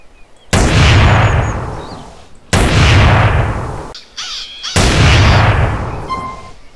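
Three heavy, booming shots from camouflaged weapons in GTA San Andreas, each a loud, close blast with a long fading tail, spaced about two seconds apart, no talk.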